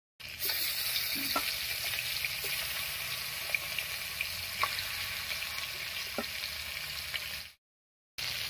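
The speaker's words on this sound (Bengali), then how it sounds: "এবার এই কড়াইয়ে সরষের তেল দিয়ে মাছগুলো ভেজে নিচ্ছি।" Desi koi fish fry in mustard oil in a wok with a loud, steady sizzle throughout, broken by a few faint utensil clicks. The sound drops out abruptly near the end and briefly returns.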